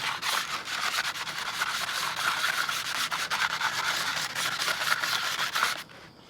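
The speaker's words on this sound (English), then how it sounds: "I'm just sort of rubbing it like this, and I'm moving from the front to the back of the knife." Kitchen knife rubbed by hand on rough sandpaper to sharpen it, steady close scratchy rasping strokes back and forth for about six seconds before stopping.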